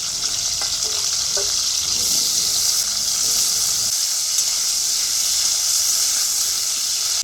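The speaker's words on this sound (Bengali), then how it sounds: "আলুগুলো লাল করে ভেজে নেব" Salted potatoes frying in hot oil for potol korma make a loud, continuous sizzle and hiss, with a few faint stirring clicks early on.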